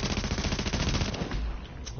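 Rapid automatic gunfire from the video game Tom Clancy's The Division, played on PS4 in the Dark Zone, rattling loud and continuous for about two seconds with dense overlapping shots.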